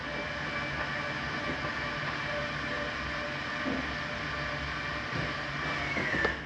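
An electric stabilizer jack motor on a 2019 Keystone Bullet Premier 30RIPR travel trailer whirs steadily as it lowers, a sustained mechanical drone with faint clicks, its pitch easing slightly near the end.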